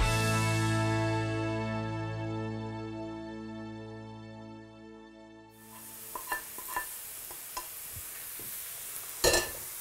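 A pie filling of onion and spices browns in a pan, with a faint sizzle that grows brighter partway through and is broken by a few stirring scrapes and clinks.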